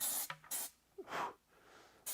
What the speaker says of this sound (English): I'm going to spray this, even though it'll probably just pop out of there